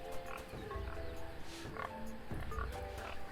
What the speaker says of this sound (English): Warthog sounds like it's this way.